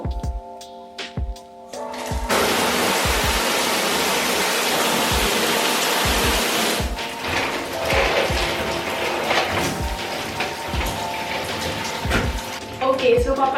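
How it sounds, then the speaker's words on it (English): A home shower runs with a strong, steady water flow, a loud broadband hiss that starts partway in and then gives way to quieter splashing and clicks, with no talk over it. "papatayin ko muna yung shower ko kasi medyo malakas yung water"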